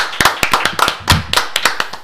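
A few people clapping in a talk-show studio, sparse close handclaps in an uneven rhythm for about two seconds, with no voices.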